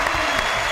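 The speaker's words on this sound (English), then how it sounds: "let's give him a round of applause for that." An audience gives a round of applause at a stage show, a dense steady patter of clapping heard at moderate distance for a brief moment, with no talking over it.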